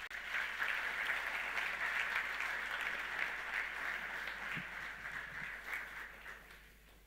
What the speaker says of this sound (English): Let's have a round of applause, please, for him.